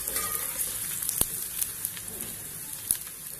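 Tomato and green chilli sizzle in a frying pan with oil, ginger and garlic, a bright crackling hiss with a couple of sharp pops and clicks.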